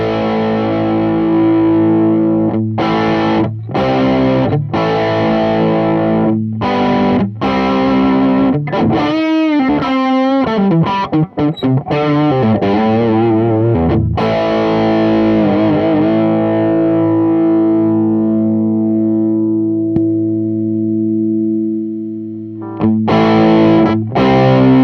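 Distorted electric guitar played through a Bogner Ecstasy Mini amp head, loud and close, with chugging chords, sustained ringing notes and a sweeping effected passage midway, alone without talk.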